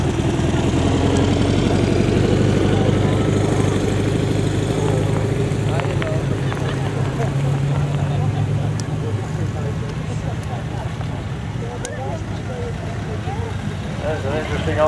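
An early 1950s split-screen Morris Minor drives around an outdoor rally arena, its small engine a steady mid-level hum beneath continuous background chatter and crowd noise.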